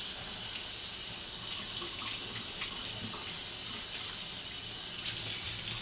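A kitchen water tap runs steadily while something is rinsed under it during breakfast hash meal prep, giving a loud, continuous splashing hiss with small bursts of spatter.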